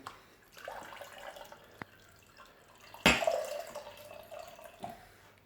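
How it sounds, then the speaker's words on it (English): IPA beer pours from the tap of a bag-in-box, a sudden splashing gush of liquid near the mic with a fizzy trailing hiss after a few soft drips. "So when you pour in one of these, all it's a case of doing is putting your fingers around them two, pushing the red button"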